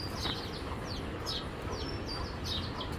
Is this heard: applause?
no